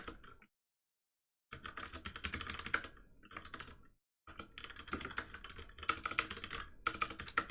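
Rapid clattering keystrokes on a computer keyboard during a coding session, close and fairly loud, in dense bursts broken by two short pauses.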